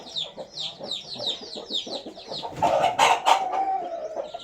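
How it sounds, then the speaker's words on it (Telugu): Heavy breeding roosters and hens cluck in a dense, steady run of calls close by, with louder crowing-like bursts breaking through in the second half. "మంచి హెవీ సైజ్ పుంజు పెట్లు కూడా అన్ని హెవీ సైజ్ పెట్టలే ఉండేది"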